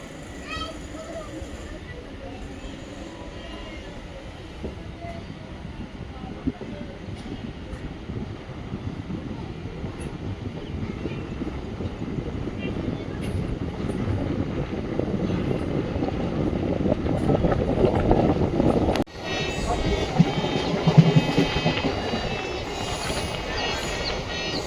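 A MEMU Express passenger train runs on the KGF to Bengaluru line with a steady low rumble heard from inside the coach. The rumble swells gradually, and a sharp shift near the end brings a brighter rattle.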